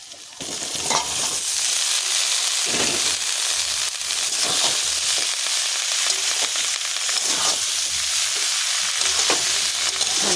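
Boiled figs and potatoes tossed into a pan frying with prawns, a loud sizzle bursting up at the start, then steady crackling hiss broken by repeated scraping stirs and clatter, close and without voices.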